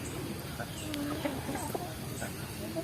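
Free-range village chickens kept in an oil palm plantation cluck softly and intermittently at a moderate distance over a steady background hiss.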